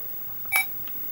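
A Grandstand Scramble handheld electronic game gives one short, sharp beep as its alarm is set, quiet and alone in a near-silent room.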